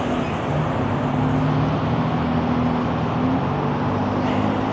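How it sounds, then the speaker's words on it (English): A truck rolls past on a highway on-ramp, a steady close road rumble with engine hum that holds throughout amid general traffic noise. "Just gonna let this truck go by"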